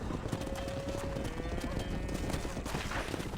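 Horse hooves clip-clopping at a gallop in the video game Red Dead Redemption, a steady dense beat over continuous game ambience and music, with a faint whinny.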